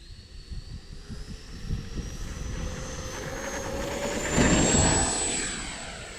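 A Fly Fans K-8 Red Falcon radio-controlled electric ducted-fan jet on 6S power whines overhead, its fan pitch sliding as it passes and swelling loudest near the end before fading slightly.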